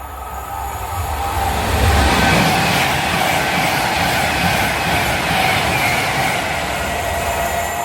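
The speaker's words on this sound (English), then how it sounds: "Another express, an up one this time. This is Glasgow to Euston." A Glasgow to Euston express train on the up line rushes past, a loud, continuous roar of wheels and rail noise with faint clicking that builds and holds for several seconds.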